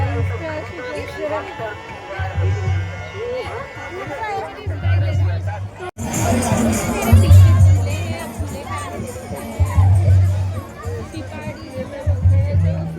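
Dense crowd at a Pabuji Bhil community mela in Pali, Marwar: a thick wash of chatter and shouting voices, close and loud, with a low rhythmic throb underneath and a sudden jump in loudness midway.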